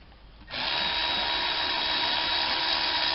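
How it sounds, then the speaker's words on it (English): Compressed air hissing from a leaking air hose in a garage during a 2010 Chevy Malibu front brake job, bursting on abruptly and holding as a loud, steady broadband hiss. "This air hose leaking."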